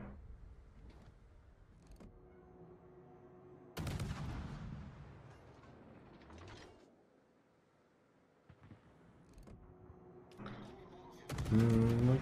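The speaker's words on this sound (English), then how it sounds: "Oh, big shells coming in." Naval artillery shells in a warship video game land as several sharp booming blasts spaced apart, with one large impact and a final loud salvo, set among quieter game sounds.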